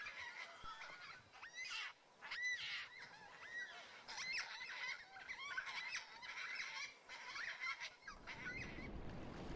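Flock of yellow-tailed black cockatoos calling from trees on Flinders Island, repeated harsh wailing cries overlapping at moderate distance, with a gust of wind noise near the end.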